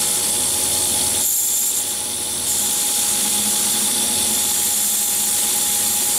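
A CNC lathe runs with a steady high whine and hiss as a turning tool back-turns a metal component, with a brief dip midway, then continuous cutting noise close by and no speech.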